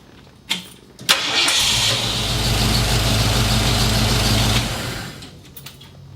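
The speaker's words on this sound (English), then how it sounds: "it is time to crank her up and let her run for a minute" A Ford Bronco engine cranks over after a brief click and catches, then settles into a steady, loud, rumbling idle for several seconds before cutting off. No one speaks.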